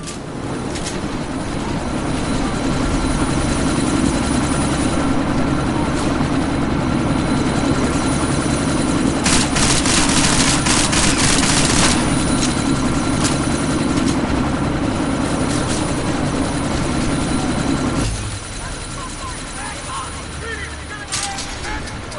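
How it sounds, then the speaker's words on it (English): A helicopter in the video game Deus Ex: Mankind Divided keeps up a steady, loud engine and rotor drone, the roar swelling near the middle. It cuts down sharply toward the end and gives way to a quieter idle. "That chopper's about to take off!"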